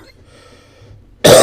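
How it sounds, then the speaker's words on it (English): A single loud, abrupt cough near the microphone bursts in after a second of near silence and cuts off at the end. "Sorry, guys. I have a cough."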